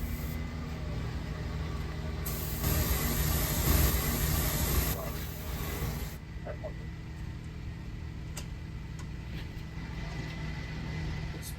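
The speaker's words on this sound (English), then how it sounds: "So if you're spraying the bottom of the lid," Enviropeel coating sprayed onto the bottom of a lid during a training session, a steady close hiss that swells louder for a few seconds in the middle before dropping back, over constant machine noise and no speech.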